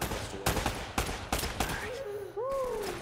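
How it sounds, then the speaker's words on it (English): Blind-fire gunshots in the Uncharted video game: five or six loud, sharp reports in a quick, uneven burst over game background noise, followed by a brief sliding, groan-like vocal sound. "I mean, I, it's blind firing, but I still am up in danger zone."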